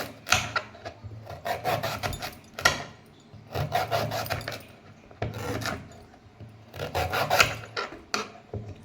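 A knife saws through a thick, fibrous banana stem in repeated rasping strokes, coming in bursts with short pauses between them and heard up close.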